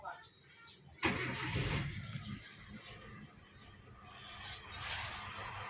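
A 2010 Kia Rio engine cranks over without catching, the starter's churning whir rising suddenly and running steadily for several seconds in a garage setting, with faint talk and a bird in the background.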